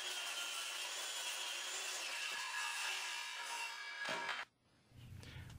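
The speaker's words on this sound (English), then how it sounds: "I'm going to use this other piece of plywood as a fence to use a circular saw along." Circular saw cutting plywood along a plywood fence, a steady rushing whine that stops abruptly near the end, followed by quieter low noise.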